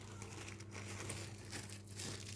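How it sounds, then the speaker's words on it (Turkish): Stretch film plastic wrap crinkling and rustling steadily for a couple of seconds, close and fairly quiet, with no talking. "Bu poşet gibi görünüyor ama streç film."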